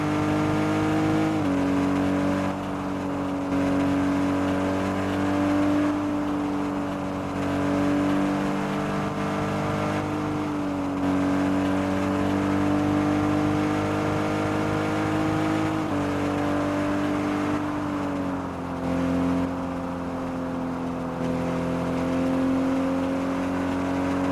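An in-game car in the video game Car Dealership 2 accelerates hard to escape grass, its engine a steady, loud synthetic drone that rises and dips in pitch with throttle changes over the whole stretch, with no talking.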